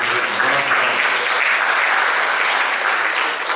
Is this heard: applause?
yes